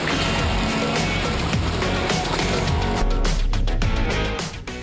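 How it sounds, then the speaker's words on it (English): Skoda Yeti SUV with a 2-litre 125 kW TDI diesel and all-wheel drive fording a deep puddle: loud, continuous rushing and splashing of water over engine noise, close by, fading at the end. "Up first is driving through water. No problem for the Yeti."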